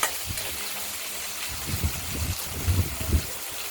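Oil hisses in a frying pan while being stirred, a steady broadband sizzle with soft low scraping and bumping as the stirring moves through it.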